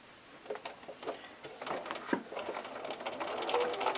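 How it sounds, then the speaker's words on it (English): Sewing machine running steadily as it stitches a flange quilt binding with a quarter-inch seam, a continuous close mechanical whir with small rhythmic shifts and brief clacks, no voices. "we're stitching with a 1/4 inch seam allowance from the edge"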